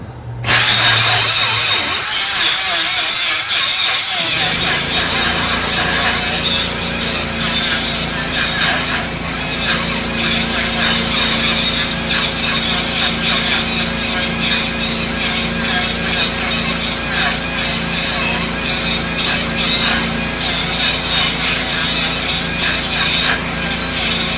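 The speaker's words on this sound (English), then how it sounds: "I'm just making a bunch of slots across the top of the rivet head, trying to get down to the bottom of it." A power tool grinds slots across the top of a rivet head on a Dodge D100 during a ladder bar install, a loud continuous abrasive whir that kicks in after a few quiet seconds and runs unbroken to the end.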